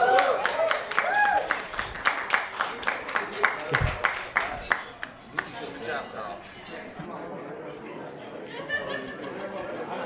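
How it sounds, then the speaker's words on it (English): Wedding guests applauding the best man, scattered claps and clinking of dishes and cutlery amid chatter, fading into murmuring room noise. "let's have a huge round of applause for our best man, Carl"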